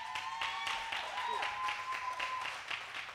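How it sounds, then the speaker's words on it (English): An audience at a church service claps for Manny and Maurice, a rhythmic run of handclaps heard at moderate distance, with faint voices and a sustained musical tone underneath. "y'all clap your hands for Manny and Maurice"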